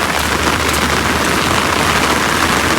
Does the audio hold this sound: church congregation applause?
no